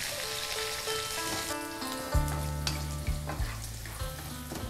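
Curry leaves fry in hot oil in a pan as cashews cook alongside, a steady crackling sizzle with bursts of popping and a few scraping stirs, close and loud with no talk.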